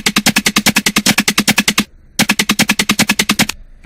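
A fast, stuttering bass synth for a modern dubstep track chops out rapid, machine-gun-like pulses in two loud bursts, with a brief silent gap between them and no voices.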